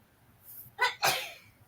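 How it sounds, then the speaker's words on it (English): A sharp sneeze in two parts: a quick intake burst followed by a louder, breathy explosive release, close to the microphone in a quiet room. "that was the missus who sneezed"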